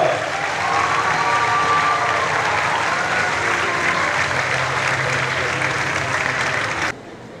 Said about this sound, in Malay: Sekali lagi kita berikan tepuk tangan paling kedua kepada UTM juga kepada bahagian pasukan pelajar IPA dan Politeknik Limau Melaka